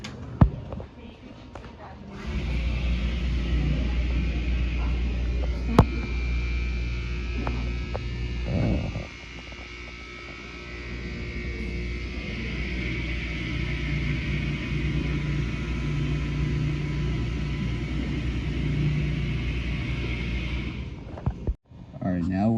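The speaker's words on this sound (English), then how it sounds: "now we're gonna listen to the motor" Motor of an amusement-style ride in a library setting, a low steady hum and rumble running for most of the stretch, dipping midway, with a voice talking over it.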